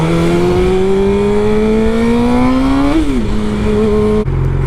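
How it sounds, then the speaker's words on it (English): A 2015 Suzuki GSX-R600 sport motorcycle being ridden, its engine loud and close, revving steadily higher through one gear, dropping on a shift and then cutting back near the end. "We're going to go ahead and ride the bike now and do the review."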